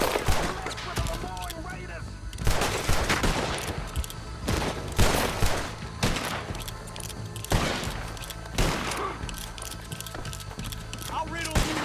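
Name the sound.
gunfire in Red Dead Redemption 2 video game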